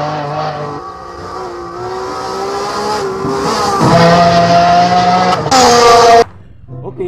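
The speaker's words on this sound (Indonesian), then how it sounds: "yang ini mobil balap teman-teman" A toy race car gives off a loud, sustained engine-like whine that rises in pitch and then cuts off abruptly near the end, heard close up.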